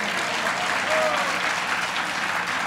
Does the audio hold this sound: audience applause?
yes